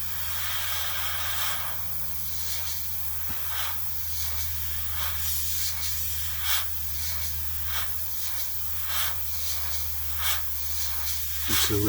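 Airbrush spraying Tamiya X1 gloss paint onto a 1/72 scale Airfix MiG-17 model, a steady soft airy hiss running almost continuously with brief pulses as the trigger is worked, close and fairly quiet.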